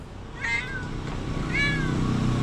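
A cat on a roof gives two clear meows about a second apart, moderately close, over a steady low background hum.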